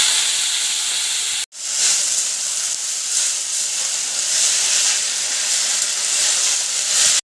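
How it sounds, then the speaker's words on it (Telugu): Washed coriander leaves hit hot oil in a pan and sizzle loudly and steadily, a dense continuous hiss after a brief cut, with no talking. "అదే ప్యాన్లో కొంచెం ఆయిల్ వేసుకుని కడిగి పెట్టుకున్న కొత్తిమీరని యాడ్ చేసుకోవాలి."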